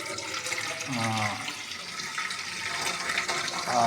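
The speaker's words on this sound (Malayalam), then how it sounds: "വെള്ളം എടുക്കുകയാണ്" Tap water running into a vessel to collect water for washing rice, a close gurgling stream whose pitch rises as the container fills, with a person speaking briefly over it.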